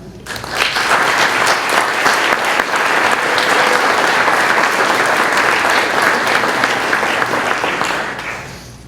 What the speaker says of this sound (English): Let's all join in and helping me to applaud her for a job, excellence, a job well done